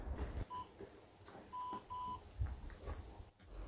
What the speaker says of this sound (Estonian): Kuula ka piikse ja tule minuga kaasa.